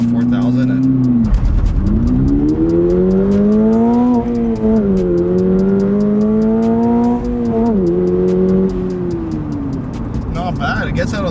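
A 2022 Subaru BRZ in track mode with traction control off revs to about 4,000 rpm and launches. The engine holds a loud, close drone whose pitch rises in steps through the run.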